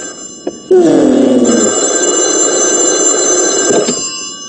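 An old-style telephone bell rings continuously with a bright metallic trill, loud and close, after a couple of brief knocks.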